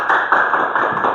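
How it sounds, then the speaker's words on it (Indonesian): Classroom audience applauding during a microteaching lesson on heat capacity, a steady burst of hand clapping filling the short moment at moderate loudness with no talk over it. "tepuk tangan untuk kita semua"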